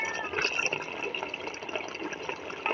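Water is poured into a pot of village-style chicken curry cooking with coconut paste, making a continuous close splashing, bubbling pour that lasts for a few seconds without pause.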